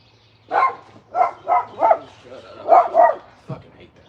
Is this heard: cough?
no